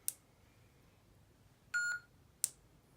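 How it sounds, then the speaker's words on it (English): A short electronic beep from a custom lightsaber changing sound fonts, clear and isolated against near silence, with a couple of faint clicks around it. "push and hold the auxiliary button until you hear a beep and then release"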